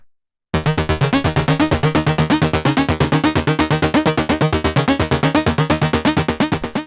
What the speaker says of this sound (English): The first sound that we have here is the Synth Sequence,